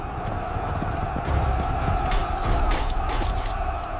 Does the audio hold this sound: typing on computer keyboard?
no